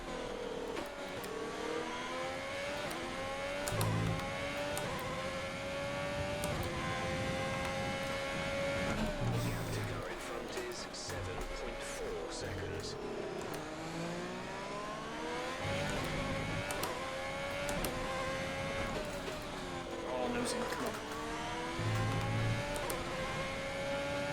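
An F1 2020 race car laps Zandvoort in the video game, its engine revving up and down through repeated gear shifts with rising whines and downshift drops, continuous and loud, without speech.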